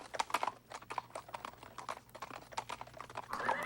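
Horses of the French army clop along with marching troops in a Second World War setting, a fairly faint, uneven patter of hoof strikes with no voices over it.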